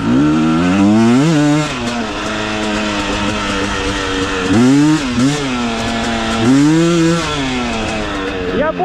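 A KOVI 300 Pro 2T two-stroke enduro motorcycle with a 56 hp engine revs hard while being ridden in second gear, its rising and falling buzzy engine note surging loudly in repeated bursts.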